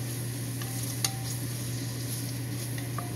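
Cooked pasta being stirred with butter in a pot for baked ziti; a soft, steady sizzle with a few light spoon taps against the pot, close and quiet, no talking.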